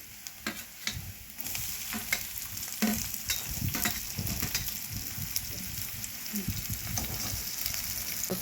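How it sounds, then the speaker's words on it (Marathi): Onion, tomato, ginger, garlic and coconut roasting in a pan for a pea and paneer curry, with steady close sizzling and frying plus occasional scraping stirs throughout, no talk. "त्यामध्ये आपण टोमॅटो आलं लसूण आणि खोबरं टाकलेलं आहे आता सगळं आता ते भाजून घेऊया"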